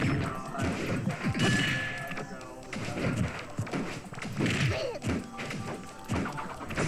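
Little Mac's dash attack in a Super Smash Bros. 4 tournament match lands among repeated crashing thuds and punchy impacts, with game sounds and crowd noise throughout and voices talking over it.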